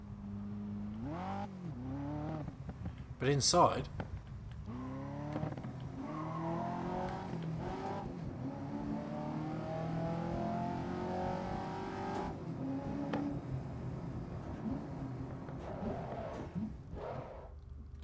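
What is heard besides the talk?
six-cylinder car engine in GRID racing video game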